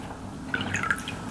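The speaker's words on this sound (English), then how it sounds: "I'm just squeezing out the excess water from the face halo" Water dripping and squished from a soaked Face Halo makeup remover pad as it is wrung out by hand, a short burst of wet drips and squelches close by.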